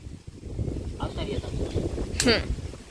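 Wind blows across an open village farm field in steady low rumbling gusts that buffet the microphone, with voices and movement nearby.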